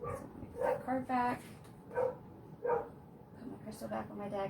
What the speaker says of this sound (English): I apologize for my dog